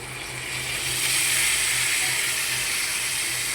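A small splash of water going into potatoes and bitter gourd frying in a pan, setting off a loud, steady hiss of sizzle and steam that holds throughout, close and without talk.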